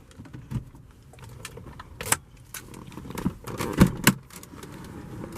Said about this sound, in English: Bring the automatic driver's side window back up. Cut the vehicle off right here.